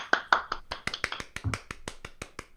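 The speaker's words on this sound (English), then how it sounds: "Golf clap." Quiet, sparse golf-clap style clapping, a dozen or so light, evenly spaced claps, soft and close with no talking over them.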